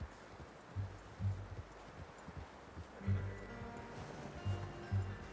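Slow horse hooves thud softly in the Red Dead Redemption 2 video game, spaced in uneven pairs under steady ambient background noise. They stay faint and low, and no one speaks over them.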